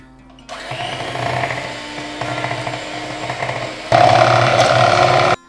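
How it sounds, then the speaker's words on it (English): An electric blender whirs steadily while blending a coconut mixture into a smooth paste, running in loud sustained bursts with a brief pause and a louder final stretch. "And now with the help of this blender I am going to blend it to a smooth paste."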